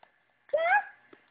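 A child mimics a duck with one short, nasal quack, close and brief, followed by faint breathy sounds in an otherwise quiet room.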